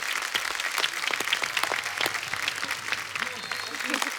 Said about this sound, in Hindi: एक बार जोरदार तालियां सुरेश पाजी और प्रियंका भाभी के लिए।